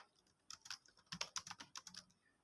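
Quick bursts of keystrokes on a computer keyboard while Python code is typed, close and fairly quiet, in short irregular clusters with brief pauses.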